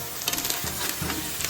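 Fish maw sizzles and crackles as it is stir-fried in a claypot, with soft scraping stirs and a steady frying hiss, no voices.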